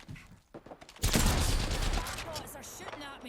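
Sniper rifle fire in the Horizon shooter game: a quiet lead-in, then a sudden loud burst of gunfire that rings out and slowly fades.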